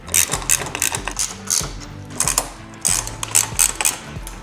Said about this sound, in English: Tighten these a little bit snugly, but allow for some movement.